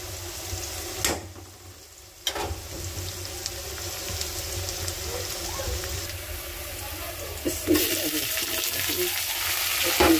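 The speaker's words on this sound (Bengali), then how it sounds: "পেঁয়াজটা হতে থাক।" Onions frying in a pan give a steady close sizzle across the whole stretch, with a few sharp utensil knocks and a brighter hiss swelling near the end; a voice speaks briefly over it.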